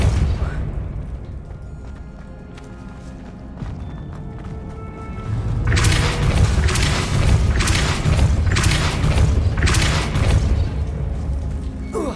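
A Depulso spell cast in the Hogwarts Legacy video game lets out a series of loud, booming broadband blasts in quick succession, rising over a low rumbling game background.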